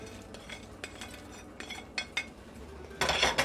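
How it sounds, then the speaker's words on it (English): Bacon goes into a pot of bacon, sausage and bean soup with a few light clinks and scrapes of a utensil against the pot, ending in a louder burst of sizzling and clattering. "So now I'm going to add my bacon."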